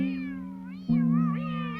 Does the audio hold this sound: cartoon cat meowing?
yes